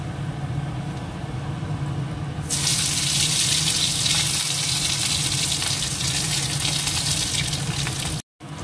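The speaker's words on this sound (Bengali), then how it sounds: "আলুটা ভাজা হয়ে গেছে" Cubed potatoes fry in a pan with cumin seeds, a steady close hiss that jumps to a louder, broader sizzle partway through and carries on continuously, with a brief drop-out near the end.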